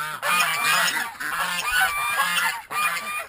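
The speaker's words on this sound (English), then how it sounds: "The geese." Geese honking loudly and close by on an off-grid homestead, a rapid overlapping chorus of repeated honks with short pauses.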